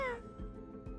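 A cat meows once in the Honkai Star Rail video game, a short rising-then-falling cry at the start, followed by quieter low ambient game sound with a couple of soft thumps.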